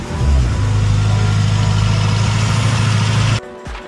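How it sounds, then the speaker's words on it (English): A Suzuki Swift GTi engine idles loud and close with a steady low drone, then cuts off abruptly near the end. "You want to give it a rev?"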